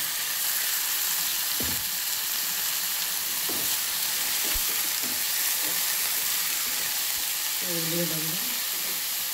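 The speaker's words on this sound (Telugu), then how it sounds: "మనం వంకాయలతో పాటు ఉల్లగడ్డ కూడా వేగుతుంది" Brinjal and onion frying together in a pan, a loud steady sizzle throughout, with a few stirring scrapes and a brief clatter near the end.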